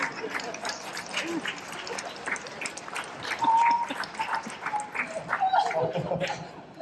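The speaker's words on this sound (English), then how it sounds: "Now let's give your friends and family a round of applause." A wedding crowd claps steadily, a dense patter of applause that swells slightly midway, with some voices mixed in.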